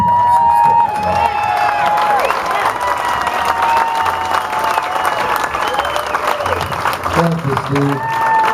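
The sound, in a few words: audience applause and cheering at anniversary event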